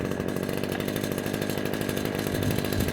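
A chainsaw cuts through bought firewood logs outdoors, a loud, steady, continuous buzzing roar held close up for the whole stretch with no voices.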